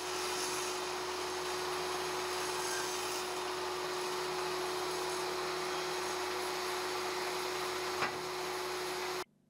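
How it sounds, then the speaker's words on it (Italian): Continuous steady whine of a power tool trimming recycled mahogany, with a constant tonal hum and broadband hiss throughout, ending abruptly with a brief knock near the end. "inizio a rifilare il legno riciclato"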